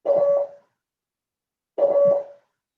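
Two identical Morse code tones, each a steady pure beep of about half a second, separated by a long silence, played clean and alone as a teaching example of the letter A.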